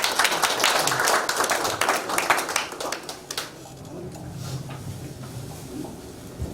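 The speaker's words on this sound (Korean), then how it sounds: "우리 박수로 한번 안녕하십시다." An audience at a Korean mission forum claps in a loud burst for about three seconds, then the clapping cuts off into quiet room tone with faint murmuring.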